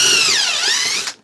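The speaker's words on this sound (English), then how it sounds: "it'll be a mostly clearance hole that I'm drilling" A power drill bores a clearance hole through wood for a garden bed frame, giving one loud, high, whining burst whose pitch sags and then rises before it cuts out after about a second.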